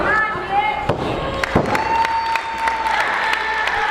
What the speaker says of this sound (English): Crowd applauding for Mr. Chris Bay.